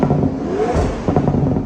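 Toyota GR GT with a 4-litre twin-turbo V8 and electric motor gives a short, loud, close exhaust roar with a rising whine, briefly swelling and surging.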